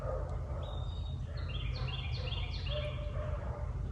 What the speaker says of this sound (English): I mean, there's also beautiful birds.